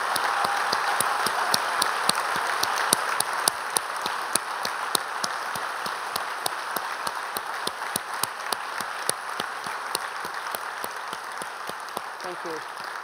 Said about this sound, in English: let's just give everybody a round of applause.